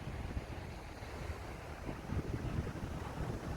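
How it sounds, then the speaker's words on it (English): Steady wind roars and buffets the microphone at a beach, with surf rumbling underneath; no voices. "It's a little bit windy."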